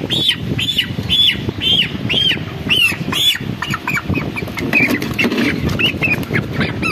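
A 28-day-old chicken being lifted and handled for weighing lets out a rapid series of loud, harsh squawks and cries, close by, with scuffling and flapping between them.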